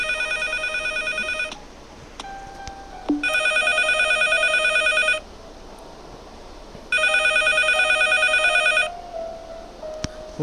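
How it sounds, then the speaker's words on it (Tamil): A telephone rings inside a house in a ghost horror video game, sounding in three long bursts of electronic trilling separated by pauses, with brief game tones and faint background noise between the rings. "ஃபோன் எங்கே அடிக்குது?"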